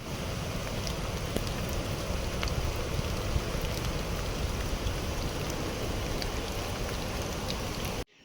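Heavy rain pouring steadily in the mountains during a thunderstorm, a dense, constant roar of drops and runoff that stays loud and even throughout before cutting off at the end.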